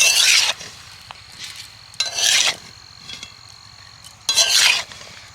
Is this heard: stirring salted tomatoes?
yes